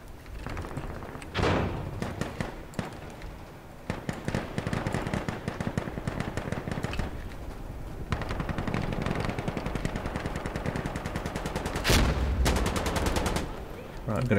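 Rapid automatic gunfire in the video game Insurgency Sandstorm, long bursts of close, loud shots with a few pauses and heavier thumps, a voice occasionally talking over it.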